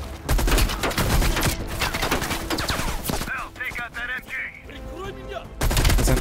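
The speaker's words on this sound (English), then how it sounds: "Okay, so it was a heavy machine gun there." Heavy machine gun fire in Call of Duty: Black Ops Cold War, loud dense bursts of rapid automatic shots that pause midway while a voice speaks, then resume at full force.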